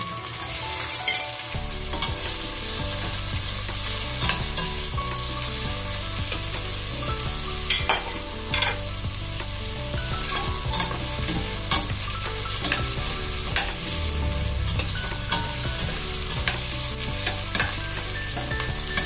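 Ginger frying in a pan for a chicken soup with patola and sotanghon, a loud continuous sizzle punctuated by repeated scraping stirs of a utensil against the pan.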